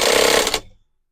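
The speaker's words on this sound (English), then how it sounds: "now I am sewing down the tulle layers on one of the" A sewing machine runs briefly while stitching down bridal tulle layers during a dress alteration, a loud close whir lasting about half a second before slowing and stopping into silence.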